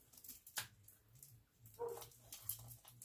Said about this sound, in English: You hear barking.